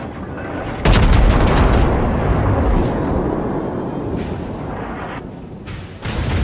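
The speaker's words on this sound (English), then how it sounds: "Enemy cruiser destroyed." A large explosion as an enemy cruiser is destroyed in a naval battle game: a sudden loud blast followed by a long, deep rumbling roar that slowly fades, with a second sharp hit near the end.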